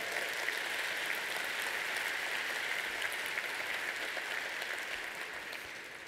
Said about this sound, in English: We'll take one moment to have a round of applause for everybody.